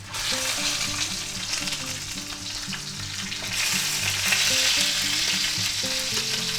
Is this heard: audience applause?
no